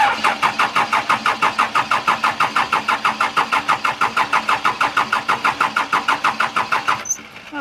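A Cummins diesel engine in a Case 580 backhoe cranks steadily on the starter after an injector pump reinstall, a loud, even rapid chugging rhythm for about seven seconds without firing, then the starter stops.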